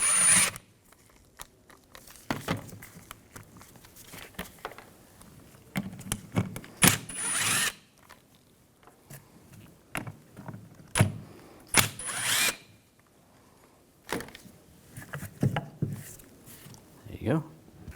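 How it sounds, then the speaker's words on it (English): Ratchet and T30 socket backing out fan clutch screws on a 2000-2006 BMW X5 3.0L inline-six, intermittent close clicking bursts and metallic scrapes, with quiet stretches between them. "Take these screws out."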